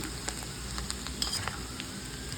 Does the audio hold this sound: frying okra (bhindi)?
yes